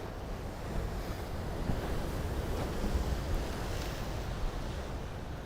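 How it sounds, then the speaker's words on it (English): Sea waves crash against the rocks of a breakwater at sunrise, a steady, loud wash of surf with rolling swells and some wind buffeting the microphone, and no voices. "heard the sound of the sea crashing against the rocks"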